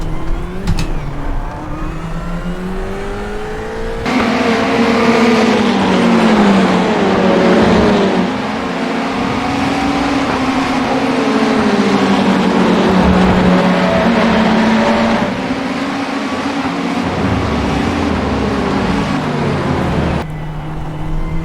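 Ferrari 488 race car engine from iRacing at Laguna Seca, a loud continuous simulated engine note rising and falling steadily through gear changes and corners, with no talk over it.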